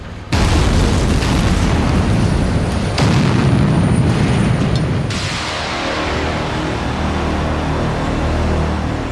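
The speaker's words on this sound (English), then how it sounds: "So they have to be dug out the old-fashioned way, by drilling" A rock-blasting explosion deep in an Alpine tunnel under construction, a heavy boom bursting in at once and then rumbling on in a dense, loud roar before dying down to a low, lingering reverberation.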